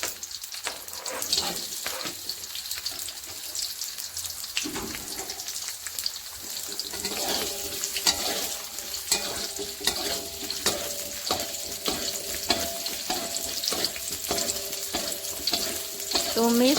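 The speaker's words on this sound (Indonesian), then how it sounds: "Lalu tumis bawang bombaynya yang sudah diiris-iris tadi. Oseng-oseng sebentar, lalu masukkan bawang putihnya." Sliced onion and garlic stir-fry in oil, a steady sizzle with repeated scraping and tapping of a spatula against the pan, close and moderately loud, with no one talking.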